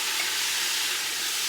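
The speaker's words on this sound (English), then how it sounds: "goes the beef in the pan. Got some butter and oil in there." Beef sizzling in a pan with butter and oil, a steady loud hiss of frying that continues evenly throughout, with no talk.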